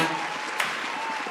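A TV talk show studio audience breaks into applause for an arriving guest, a dense wash of clapping that rises at the end of this short burst.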